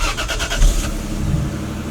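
A Toyota 2JZ engine after exhaust repair, heard close with a brief rising rev and then settling into a steady low rumble.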